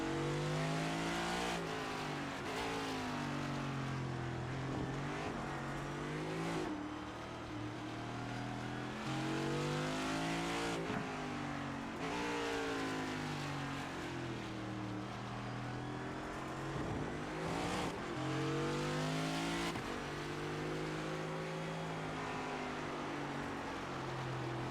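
NASCAR race car engine at Circuit of the Americas in the iRacing game, a loud continuous roar rising and falling through repeated upshifts and downshifts, with other cars faintly around it.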